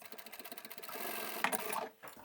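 A sewing machine stitching across the end of fabric and elastic for a simple bandana head scarf, a quick rhythmic mechanical whirr that runs close and fairly quiet, then stops with a brief final clatter.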